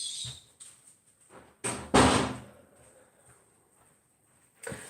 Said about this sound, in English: Just let me shut this door a minute.